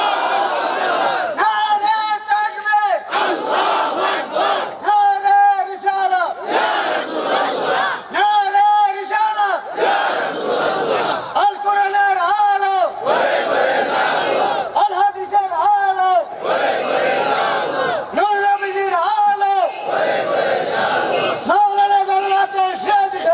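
A large crowd at an outdoor Bengali religious sermon chants a slogan in unison, loud rhythmic group shouts repeating roughly every two seconds, alternating with a lead voice calling out between rounds.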